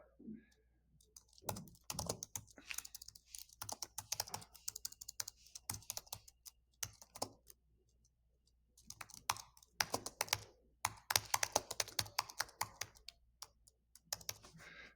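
Computer keyboard typing a page title, with quick bursts of close, crisp key clicks broken by short pauses and a near-silent gap midway before the rapid typing resumes.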